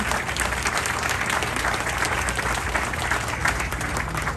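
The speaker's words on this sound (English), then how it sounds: "So big round of applause to all my colleagues here." Crowd applause at a track completion ceremony for the Foothill Gold Line rail extension, dense continuous clapping from a large outdoor gathering, loud and even throughout with no break.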